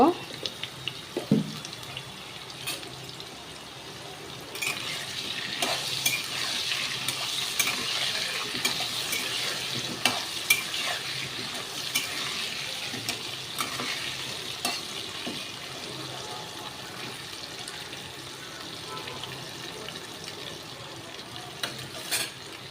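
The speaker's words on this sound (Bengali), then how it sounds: "আলুটা ভাজা হচ্ছে।" Potatoes seasoned with salt and turmeric fry in a pan, a soft steady sizzle with occasional stirring scrapes, fairly quiet and continuous with no talk.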